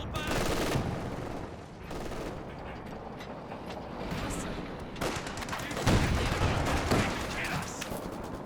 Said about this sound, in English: MG42 working well here.